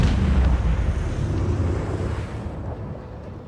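Torpedo explosions in the Warhammer 40K Rogue Trader video game: a heavy, rumbling blast that starts loud with deep low thuds and fades over a few seconds into a dull roar, with no talking.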